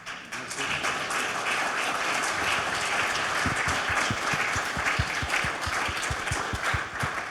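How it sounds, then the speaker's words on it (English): A conference audience gives the sponsors a sustained round of applause, dense clapping that grows more distinct with individual claps standing out near the end, with no talk over it. "Thank you for giving an applause to our sponsors."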